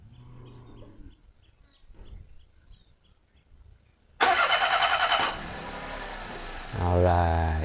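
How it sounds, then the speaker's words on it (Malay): A Daihatsu Move L9 RS 660 turbo with tiptronic automatic is started by remote: after a quiet stretch with faint background voices, the engine cranks abruptly and loudly, catches, and settles into a steady near idle with a brief rev swell. "Okay, kita nak try start kereta pakai remote guys."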